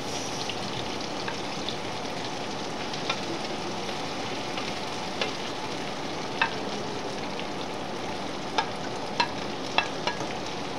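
Seafood mix sizzling and frying in a pan for chopsuey, a steady broadband hiss with faint scattered pops and occasional stirring clicks, close and even throughout.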